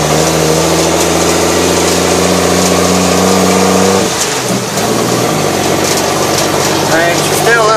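A military truck engine idles, still a little cold, with a steady low rumble throughout; around the midpoint the tone dips and shifts as if the revs change, and a voice talks over it.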